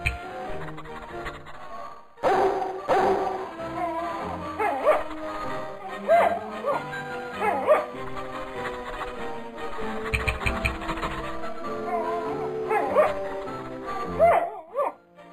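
A cartoon puppy yips, barks and whimpers in short bursts, with people talking over and between the sounds nearby.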